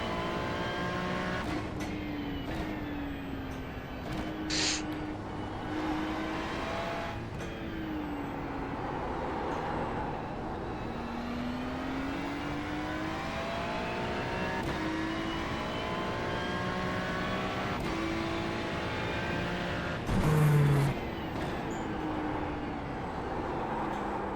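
A Ferrari race car engine in the iRacing sim, droning steadily throughout as the pitch climbs and falls through gear changes, with a brief louder burst near the end and no talking.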